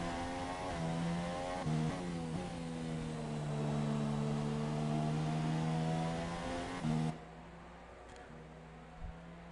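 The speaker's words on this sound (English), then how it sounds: "You can hear that back end, just those wheels just spinning around." A Formula 1 car in a racing video game has its rear wheels spinning for grip, with a steady, buzzing, high-pitched engine whine that shifts in pitch, then cuts to a quieter idle near the end.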